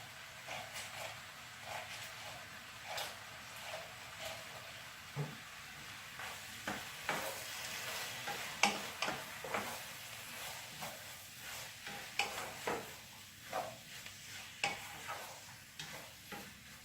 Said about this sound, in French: je fais attention en mélangeant pour ne pas les abîmer